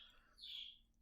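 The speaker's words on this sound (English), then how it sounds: "the birds that you hear in the background are my parakeets." Pet parakeets chirp faintly in the background of a quiet indoor room, one short high call rising and fading, with no talking.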